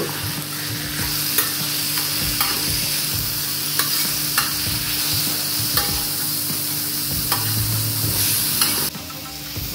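Chicken and prawns sizzle steadily in a pan for special fried rice, with a constant frying hiss and regular scraping clicks of stirring throughout; no voices.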